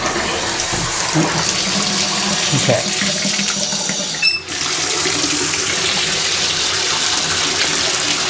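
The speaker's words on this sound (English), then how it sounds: "I'm going to turn on the water." Water runs steadily from a bathtub faucet after a tub diverter replacement, a loud continuous rushing hiss that lasts the whole time, with a brief gap partway through and a short spoken word near the start.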